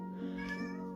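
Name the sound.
cat meowing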